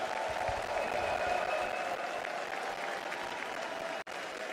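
Crowd applause and cheering fill an arena in Hamburg at The International 2025 Dota 2 main event, a loud, sustained roar of clapping that cuts off abruptly near the end.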